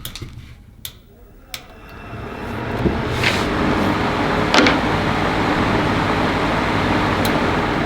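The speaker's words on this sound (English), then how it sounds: "it's not going to blow you out of the room or anything, but it is a decent, nice fan for the amount of air that it moves" A Ryobi hybrid fan that runs on battery or cord spins up after a few clicks and settles into a steady, moderate whoosh of moving air that holds constant to the end.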